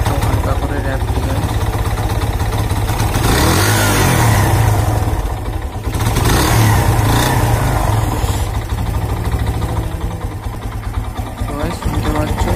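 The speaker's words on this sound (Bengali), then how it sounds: "সবে আমি ইঞ্জিনটা রিভিল করেছি, তো একটা হালকা করে র্যাপ দিয়ে" A Kawasaki Boxer motorcycle engine, freshly serviced at home, runs loud and steady close by, with a couple of light, brief revs lifting the pitch before settling back to a smooth idle.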